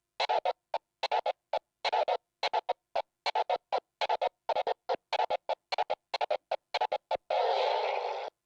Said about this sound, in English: I call it the crab forward, and it sounds like this